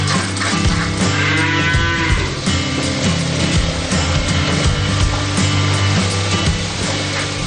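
Friesian Holstein dairy cows at a dairy farm in Pondok Rangon, East Jakarta, moo loudly and repeatedly, drawn-out calls overlapping one another close by throughout.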